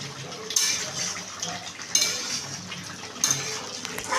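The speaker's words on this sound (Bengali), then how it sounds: "এবারে আমি চিকেনটাকে ভালোভাবে নাড়িয়ে নিচ্ছি" Chicken stirred in a pan for chicken curry, a spoon scraping and clattering against the metal every second or so over a low sizzle, close by.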